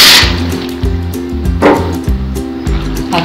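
Dry macaroni pasta tipped into a pot of boiling salted water in a home kitchen, giving a short burst of pouring and splashing followed by a run of quick, close knocks and taps from the pot.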